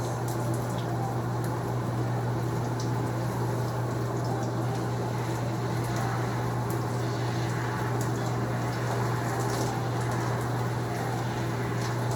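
Running water rinsing hair during a wash-and-go routine, a constant close wash of flowing, splashing water with a low steady hum beneath it and no speech.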